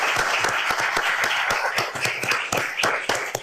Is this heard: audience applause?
yes